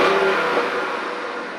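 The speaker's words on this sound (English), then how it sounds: "Give her a couple revs for you." A 460-horsepower car engine revs briefly and loudly close by, a single smooth rising and falling throttle blip with a steady roar and no talking.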